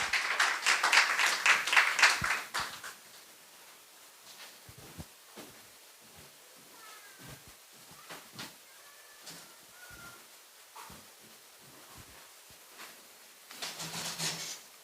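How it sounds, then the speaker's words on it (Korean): A church congregation claps to welcome a pastor at a tenth-anniversary revival service, a burst of applause for about three seconds, then quiet room noise with faint shuffles and a brief second patter of clapping at the end. "우리 박수로 환영하도록 하겠습니다."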